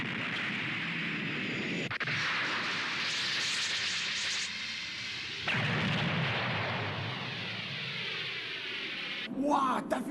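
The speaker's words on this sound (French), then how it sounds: "t'as vu ça, un canon laser?" Loud sustained roaring blasts with sharp cutoffs from a laser cannon firing, followed by a rising whooshing sweep near the end.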